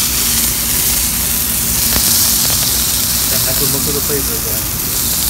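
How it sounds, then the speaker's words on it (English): The fatty end of a NY strip steak sears in a hot pan, a continuous loud sizzle and hiss running throughout while a person talks over it. "What I'm going to do now is sear the end. You want to kind of render that fat on the end."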